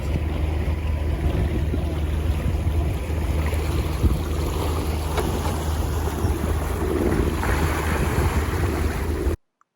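A sailing yacht motor sails on its engine through waves and wind on the approach to the Salcombe entrance, near Plymouth. A steady engine drone blends with rushing water and wind buffeting for the whole stretch, then cuts off abruptly at the end.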